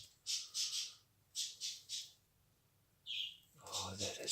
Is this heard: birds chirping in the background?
yes